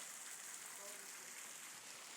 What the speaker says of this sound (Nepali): बन्चरेको खोला हो